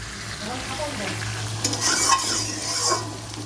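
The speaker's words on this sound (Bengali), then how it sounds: "একটু আলুটা ভাজা ভাজা হোক" Potatoes fry in oil spiced with ginger, dried red chilli and green chilli paste, with a steady sizzle under the scrape of a spatula stirring the pan, rising in a few brisk stirring bursts toward the end.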